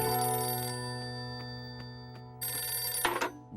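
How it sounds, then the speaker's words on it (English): A telephone rings with a sustained electronic tone, pulsing in short bursts, then a louder burst of ringing near the end. "And then the phone rang."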